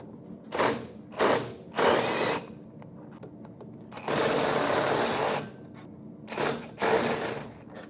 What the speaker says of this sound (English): the 4 hex bolts that are holding on the unit. So we're simply going to remove those and pull the entire unit off